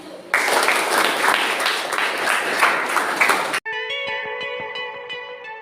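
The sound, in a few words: class applauding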